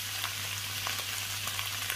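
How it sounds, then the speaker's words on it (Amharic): Hot green peppers and tomato fry in spiced butter for an Ethiopian tripe dish, making a steady bright sizzle with small scattered pops and crackles over a low constant hum. "እጨምርና ይሄንን አቀላቅዬ ለአንድ ደቂቃ አብሬ አበስለዋለሁ ጣዕሙን እንዲወስድልኝ"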